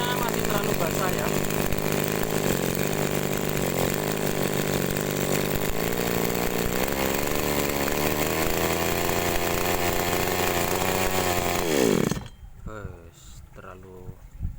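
A small agricultural sprayer engine that won't rev up properly runs loudly and steadily at a buzzing idle, then cuts out abruptly near the end, leaving faint background noise.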